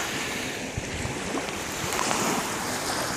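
Waves washing along the Gulf of Mexico shore on a hot day, a steady broadband surf rush with soft wind buffeting, no voices.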